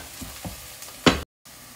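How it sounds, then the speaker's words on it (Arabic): Chopped onions, two of them, hitting hot oil in a pan with cumin, black pepper and turmeric, giving a few short soft sizzles and a brief louder burst of frying, heard alone. "ونزلت فيه البصل، حبتين بصل قطعتهم بس ينحمص البصل"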